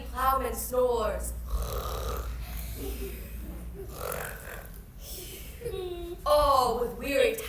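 On stage, an actor playing a fairy in a Shakespeare performance imitates a ploughman's heavy snoring with loud, rasping voiced snores that rise and fall among spoken lines.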